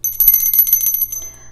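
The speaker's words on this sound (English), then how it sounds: "let me just get my bell." A small bell, like a bicycle bell, rings loud and close in a quick run of bright, rapid strikes that fade over about a second.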